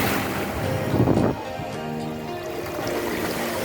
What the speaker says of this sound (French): La puissance des vagues était impressionnante et effrayante à la fois.